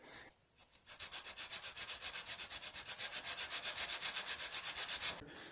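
Hand sanding the heel of a cigar box guitar neck with coarse 60 grit sandpaper: close, rhythmic rasping strokes on wood, about five per second, steady and loud after a brief pause at the start.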